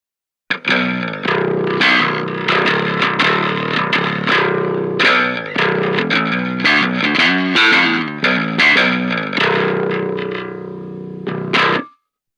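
A Parallax X mid-band distortion plugin at 50% mid drive processes a bass line, giving loud, gritty, buzzing sustained notes with chorus-like shimmer that play continuously for about eleven seconds before cutting off.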